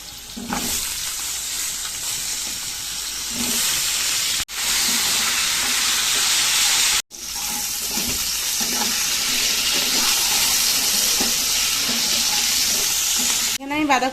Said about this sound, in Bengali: এবার এই তেলের মধ্যে বাঁধাকপির জন্য কেটে রাখা আলুগুলো ভেজে নিচ্ছি।